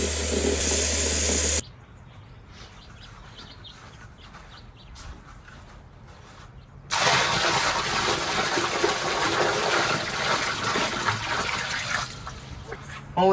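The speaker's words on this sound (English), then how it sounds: "I'm gonna fill up some buckets of water." Water gushes from a tap or hose into buckets being filled for a backyard pond, a loud hissing spray at the start, a quieter trickle in the middle, then a steady strong flow again.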